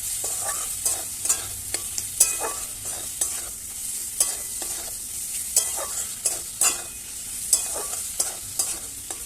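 Kidney bean masala (rajma) being stirred and sautéed in a pan with a little oil, a steady soft sizzle broken by frequent scraping and stirring clicks of the spoon, close up, with no talking.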